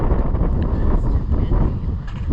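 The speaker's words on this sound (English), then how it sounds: "as soon as we walked around the bluff, the winds are about 20 miles an hour and it is chilly" Strong coastal wind around a bluff at Pescadero, gusting near twenty miles an hour, roars steadily into the microphone as loud, continuous buffeting rumble with no pauses.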